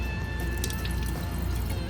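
Fresh water runs from a foot-pedal pump faucet aboard a Lagoon 450 sailboat, a steady close splashing and dripping into the sink, with no voices.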